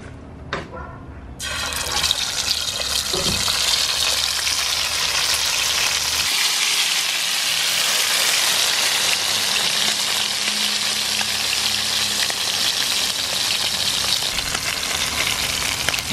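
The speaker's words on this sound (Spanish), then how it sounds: "ya listo para ponerlo en el aceite" Seasoned iguana meat dropped into hot oil, frying with a loud, steady sizzle and crackle that holds throughout after a brief splash at the start.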